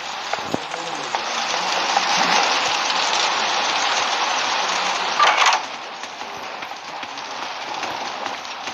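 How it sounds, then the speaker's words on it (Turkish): Steady rain in the video game Doors hisses and patters across the whole stretch, a dense even wash with a few sharper taps and one brief louder burst midway. "Yağmur da yağmur."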